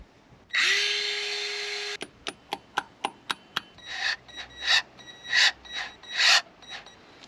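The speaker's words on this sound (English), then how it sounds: "I'm going to drill a little hole into it" A small drill runs in a steady high whir for over a second, drilling into a broken timing belt tensioner on a Mk5 Golf, then sharp clicks and short grinding bursts follow, fairly close.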